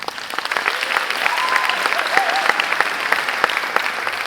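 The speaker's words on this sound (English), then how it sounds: "it's proper to give a little applause in the middle of the song to acknowledge their performance" An audience at a high school jazz concert claps after solos, a dense, even patter of hands at moderate volume with a few louder individual claps, continuing steadily throughout.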